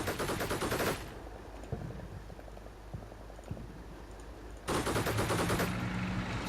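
Sustained automatic gunfire aimed at a BTR in the game Combat Mission: Shock Force 2: one dense burst, a gap of quieter scattered shots, then another heavy burst of rapid fire, loud and close, with no talking.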